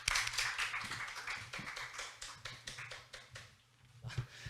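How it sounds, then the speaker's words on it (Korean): A conference audience at a smart tourism industrial session gives scattered, uneven clapping to welcome a presenter, a quiet, thin patter of hands that rises and fades over several seconds. "큰 박수로 맞이해 주시기 바랍니다."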